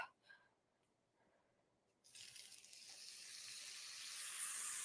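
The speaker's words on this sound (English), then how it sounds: "Can you hear the sizzle?" A brief quiet moment, then a loud, steady sizzle of food hitting hot oil that keeps hissing and slowly grows stronger.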